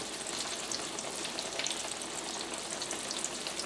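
Hot oil sizzles and crackles steadily as eggplant fries, a dense hissing texture with no voices.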